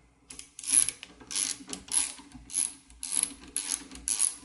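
Screwdriver unscrewing a screw on a tilt valve lever of a BG 4 rebreather held in a fixture, a series of close, crisp ratcheting clicks in short repeated bursts.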